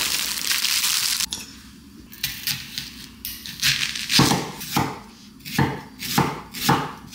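A knife slices onions finely on a cutting board at home, heard as close, crisp crunchy cuts that settle into a steady rhythmic series of chops after an initial rustle, with no speech.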